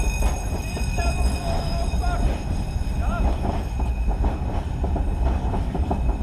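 A train rolls along rails on a WW2 reenactment ride, heard from atop a FLAK car near the Maldegem–Eeklo border. A loud, steady rumble with rattling wagon noise continues throughout.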